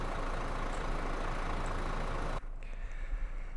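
A heavy truck engine in Euro Truck Simulator 2 rumbles steadily at idle, then its tone drops and thins abruptly partway through, leaving a quieter low drone.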